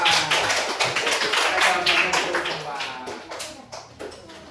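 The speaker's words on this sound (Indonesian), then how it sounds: "Tepuk tangan untuk kita semua." A group claps in a dense, uneven patter, with voices chattering over it as it gradually fades.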